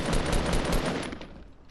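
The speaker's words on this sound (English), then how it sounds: "Dude, you're shooting the freaking base." Rapid automatic gunfire in a Fortnite Battle Royale match, aimed at a built base, a dense burst of loud repeated shots that thins and fades toward the end.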